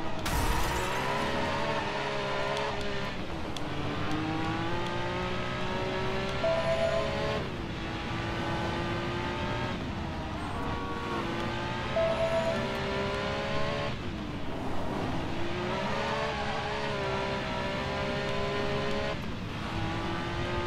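A McLaren F1 supercar in Driver: San Francisco revs hard through repeated gear changes, engine pitch climbing and dropping in long sweeps, with occasional tire squeal and passing traffic, loud and close throughout.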